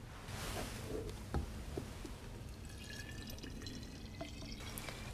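Deionized water is poured into a bottle of agar, giving soft splashes and a trickle at low volume alongside a few faint clinks.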